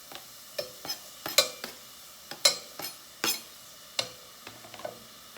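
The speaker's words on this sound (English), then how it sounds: "in that oil, I am going to stir fry the other half of the onion that was left over" Onion stir-frying in oil, with a soft sizzle under a series of irregular scraping and clinking stirs from a utensil against the pan, close up and with no talk.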